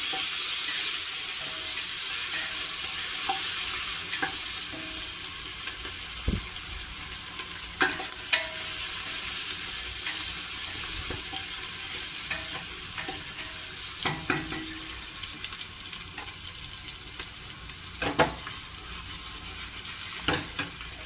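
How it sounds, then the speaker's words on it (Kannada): Onions fry in oil in a pan as the first step of a mutton chops dish, producing a steady, close sizzle and hiss broken by occasional scraping clicks of stirring. "ಈರುಳ್ಳಿ ಸ್ವಲ್ಪ ಫ್ರೈ ಆಗಿ ಎಣ್ಣೆನಲ್ಲಿ"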